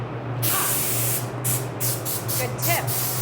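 Paint spray gun laying down a first coat on a Camaro, several short hissing bursts in a row with brief gaps between them, heard close up over a low steady hum, with some voice in the background.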